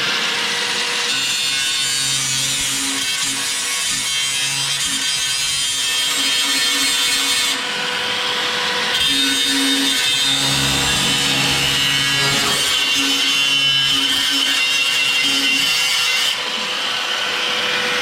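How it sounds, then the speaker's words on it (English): A power tool grinds out rivets on the rear subframe and firewall of a 1931 Ford Model A. The loud, close grinding is harsh and continuous for the whole stretch, with only a few brief dips in intensity. "Cutting out, grinding out some rivets."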